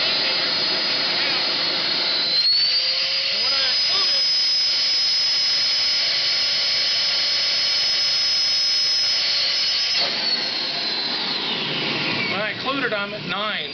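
A Mytee 7303LX carpet extractor's vacuum motor runs with a loud, steady high-pitched whine that holds for about ten seconds, then winds down as a voice speaks near the end.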